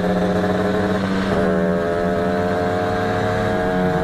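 A motorcycle with an aftermarket exhaust and upgraded carburetor idles and revs close by, a steady buzzing engine note with one brief rise in pitch midway.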